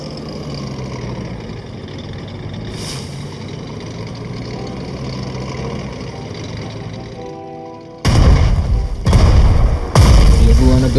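A tank attacks enemy artillery in the strategy game Strategic Mind Blitzkrieg: a steady engine rumble runs under background music, then heavy booming blasts land close and loud in quick succession near the end.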